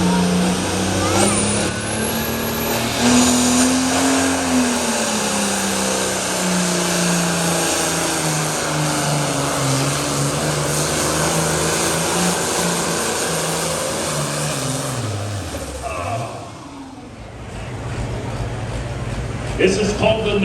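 John Deere 4250 tractor "No Name Deere" at a tractor pull, engine roaring loud and sustained as it hauls the sled, pitch shifting with load before dropping off near the end, with an announcer talking over it.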